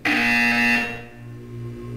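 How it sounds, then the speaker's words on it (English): Portal 2 test-chamber buzzer: a loud, sustained electronic tone sounding alone for about three quarters of a second, then fading into a lower steady hum. "You will hear a buzzer."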